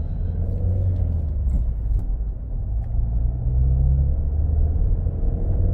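A 2007 Citroën C5 Exclusive with a naturally aspirated four-cylinder petrol engine drones at a steady low pitch, loud and close, with a constant rumble and a slight rise in pitch partway through, and no voices.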